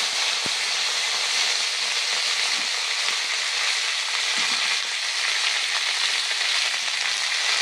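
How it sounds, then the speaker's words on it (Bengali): Drumsticks frying in hot mustard oil with nigella seeds and green chilli in a wok, a loud continuous sizzle with a sharp pop near the start and faint stirring scrapes. "কড়াই গরম হয়ে গেছে, দিয়ে দিচ্ছি সরষের তেল, ফোড়নে দিয়ে দিচ্ছি কালো জিরে, কাঁচা লঙ্কা। এবার ডাঁটাগুলো দিয়ে দেবো।"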